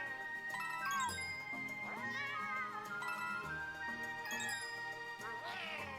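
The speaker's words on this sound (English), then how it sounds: "every time you get off of Plessy, all the little kittens also cry" Little kittens in Super Mario Bowser's Fury cry out in repeated high, wavering meows over a steady, busy game music backdrop, several mews rising and falling across the stretch.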